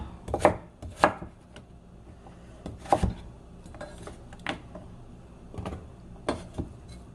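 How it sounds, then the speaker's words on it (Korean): A knife chops radish on a cutting board, irregular sharp thunks spaced apart, some louder and some softer, in a quiet kitchen. "가루가 이렇게 있으면 믹서기에 갈기 좋게끔 썰으시면 돼요"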